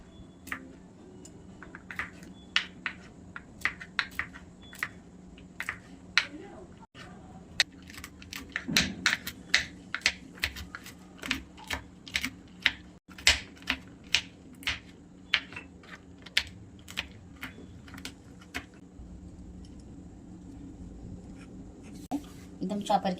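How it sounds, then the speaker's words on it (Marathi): A knife chops cashew nuts on a board in a string of sharp, irregular taps, some in quick bursts, close and fairly crisp, with a voice speaking now and then between the cuts. "आणि काजू कट करून घेऊयात."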